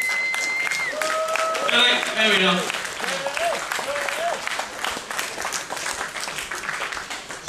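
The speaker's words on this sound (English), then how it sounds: "Round of applause, come on, don't be shy" A crowd at the Auto Assembly 09 car show gives a steady round of applause, dense clapping that carries on for several seconds while voices talk and shout over it.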